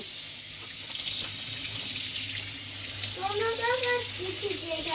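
Water runs steadily from a kitchen tap into a sink during dishwashing, a continuous close splashing hiss that lasts throughout, with faint clinks and a brief squeaky sound near the end.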